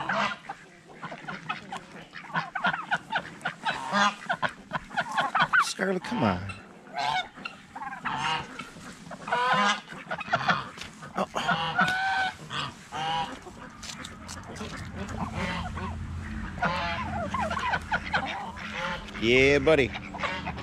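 Geese and ducks honk and squawk repeatedly at close range, a loud, irregular chorus of overlapping calls around a bucket, with a person speaking briefly among the birds.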